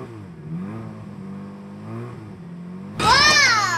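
A child's ride-on Tesla toy car drives close by with a steady electric motor whine and low hum, then a burst of louder, higher whirring near the end as it speeds up.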